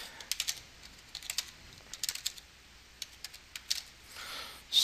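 Fingers type on a computer keyboard in short uneven bursts of close, crisp key clicks with brief pauses between them, setting up a Firefox email signature.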